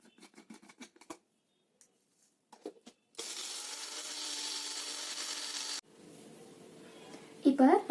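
A kitchen mixer grinds cumin seeds and a broken green chili, its motor whirring steadily for a few seconds after some scattered taps and knocks, then a lower shifted whir and a brief louder burst at the end.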